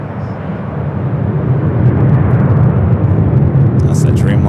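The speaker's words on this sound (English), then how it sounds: "That's the Dreamliner coming in from Paris" A Boeing Dreamliner arriving from Paris at LAX gives a loud, continuous low engine roar that builds and holds, with a voice briefly audible near the end.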